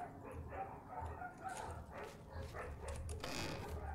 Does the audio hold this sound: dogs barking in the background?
yes